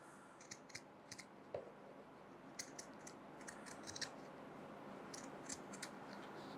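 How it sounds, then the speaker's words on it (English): Pinking shears trim cotton canvas fabric in a series of quiet, crisp snips, a few spaced cuts then a quicker cluster, faint and close against a soft background hiss. "I'm going to use my pinking shears, and I'm going to trim just a little bit."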